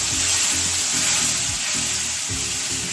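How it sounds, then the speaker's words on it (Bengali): Hot water hits a pan of frying spices and potatoes for an egg omelette curry, a loud steady sizzle and bubbling roar filling the moment with stirring scrapes underneath. "এবারে জল দিচ্ছি, গরম জল"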